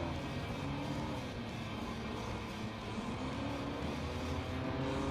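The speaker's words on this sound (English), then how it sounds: "Another Skyline, just blasting past it" Turbo sports race cars, including a Nissan Skyline and a Porsche, in Gran Turismo 7 on PS5, engines droning and revving continuously as cars rush past, a steady, fairly quiet motor roar.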